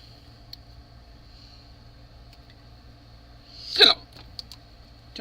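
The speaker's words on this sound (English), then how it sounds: "I got the hiccups" One sudden hiccup from a woman working on a papercraft project with a Scan N Cut CM350, sharp and close against a quiet room, with a faint tick just after.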